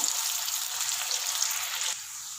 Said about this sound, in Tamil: அது வரைக்கும் நல்லா ஃப்ரை ஆகட்டும்.